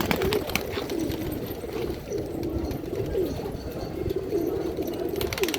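Babra breed pigeons coo in a loft, their low, repeated rolling calls overlapping steadily against a constant hiss of background noise.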